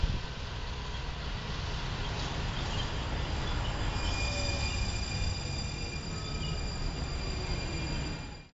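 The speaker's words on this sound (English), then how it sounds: "And here's the train pulling in right now." A Tide light rail train pulling into a station, a continuous loud rumble of wheels on track with faint high squeals, steady throughout before cutting off.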